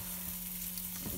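Onion frying in a pan for chicken lasagne while being stirred, a steady close sizzle with a brief scrape of stirring near the end, no talking.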